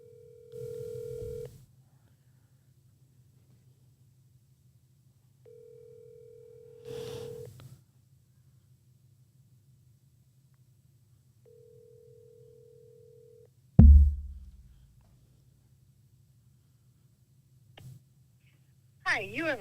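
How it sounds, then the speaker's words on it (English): On an outgoing cold call to a landscaping business, the ringback tone sounds three times at steady intervals over a low line hum. A click follows as the line picks up, then a recorded voice begins. "And then I'll start the first cold call."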